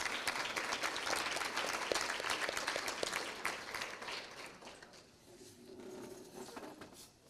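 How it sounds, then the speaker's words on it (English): An audience at a Texhoma FFA banquet claps in a dense, sustained round of applause that thins out and fades over the last few seconds. "Go ahead and give them a round of applause."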